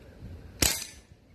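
A single sharp air rifle shot from an Umarex Ruger 10/22 striking a Pepsi can, a loud crisp crack with a brief decaying tail, heard alone and close.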